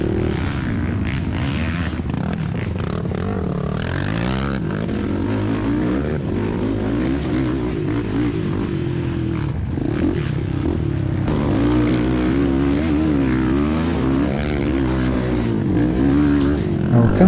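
An old two-stroke 250 ATV racing in a hare scramble at Wolf Rock Farm, its engine buzzing loudly and steadily throughout with continual pitch swings as the throttle rises and falls. It sounds close and sustained from start to finish.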